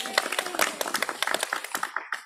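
A worship congregation applauds its youth musicians with dense, steady hand clapping that continues throughout, mixed with voices from the crowd.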